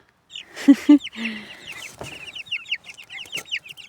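Two-week-old chicks peeping and clucking in rapid high chirps throughout, nearby and continuous, crowded in a cramped space, with a few louder low calls near the start.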